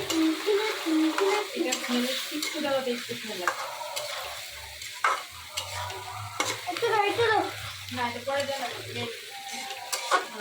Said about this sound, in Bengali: এই যে একটু বিরিয়ানির মশলা দিয়ে ভালো করে কষে একটু বিরিয়ানির মশলা দিয়ে দিলাম